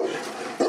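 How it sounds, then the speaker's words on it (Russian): Puppies whine after being rescued from under the rubble of a destroyed house. The brief whimpering is buried in a wash of background noise, with a slightly louder burst at the end. "5 скулящих щенят достают почти сразу"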